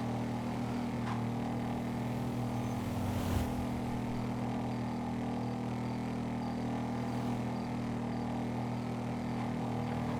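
A steady, droning Western Bagger motorbike engine in a video game hums continuously at an even pitch, loud and close, with a faint whoosh partway through and no voices.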